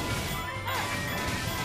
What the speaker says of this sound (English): Impa smashes his head in the corner.